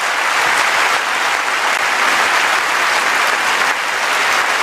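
A large crowd cheers and applauds steadily and loudly throughout, a dense, continuous wash of clapping with no talk over it.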